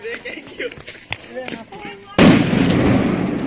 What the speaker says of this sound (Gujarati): ભૂતરી બોમ્બ ફોડે છે. ફોડ્યો.